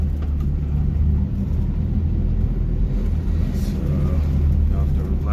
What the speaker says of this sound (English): Figure out if that's an exhaust noise, is that valve train noise,